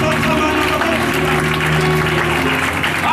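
A church congregation claps and cheers in praise of God, a loud, dense wash of applause and crowd noise with musical tones running underneath.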